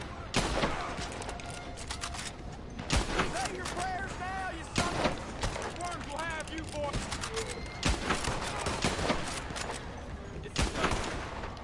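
Sniper shots and minigun fire in Red Dead Redemption 2: sharp, loud gunshots crack at irregular intervals, several echoing booms across the scene, with chirping birdsong faintly in between.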